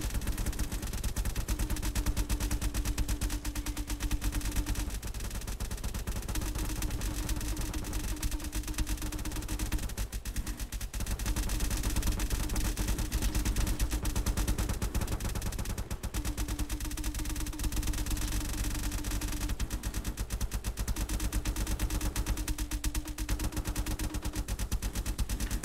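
Rapid, continuous video game cannon fire rattles densely throughout, a relentless stream of shots over a steady low hum with recurring tones.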